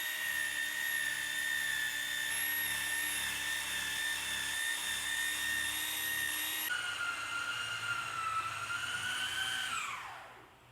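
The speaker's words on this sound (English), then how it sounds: "All done buffing the car out" A car polisher buffing a Tesla Model 3's paint gives a steady high-pitched mechanical whine that runs continuously, shifts pitch partway through, then winds down and fades at the end; close and constant.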